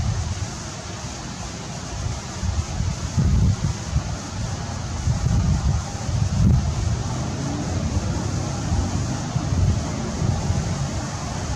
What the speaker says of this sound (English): The wind ain't helping much with these matters.